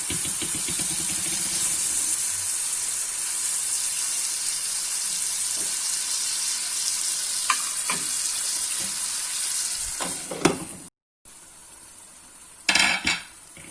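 A breakfast dish, cheese still to be added, sizzles steadily in a pan after being flipped, a continuous close frying hiss broken near the end by a few utensil clinks and scrapes against the pan, with no talking.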